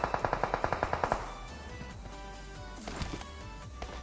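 Rapid burst of automatic gunfire in PUBG Mobile on a snowy map, about ten sharp evenly spaced shots close by, then fading to quieter scattered distant shots and game ambience.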